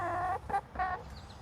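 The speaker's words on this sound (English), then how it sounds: "As you can see, chickens are a really social creature." Backyard chickens cluck in three short bursts with brief pauses between, close and clear against a quiet outdoor background.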